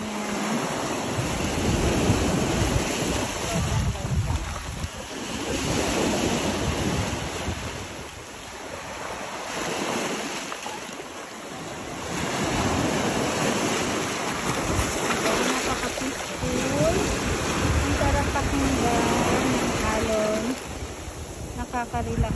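Ocean waves wash steadily onto the shore at Camara Island, a continuous broadband surf with gentle swells, mixed with wind noise and a faint high hiss.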